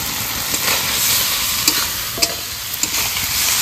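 Potatoes and spice paste of chilli, ginger and garlic stir-fried in oil in a pan, a steady close sizzle with a few sharp spatula scrapes and knocks, no talking.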